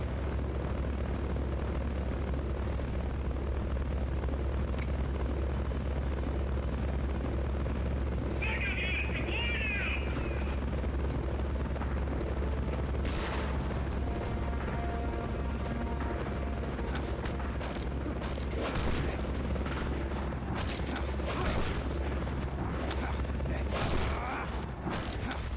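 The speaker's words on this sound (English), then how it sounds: "Confirmed onboard helicopter" A helicopter in the video game Metal Gear Solid: Peace Walker drones steadily with a deep, constant rotor hum for the whole stretch, while brief game effects and a voice flicker over it.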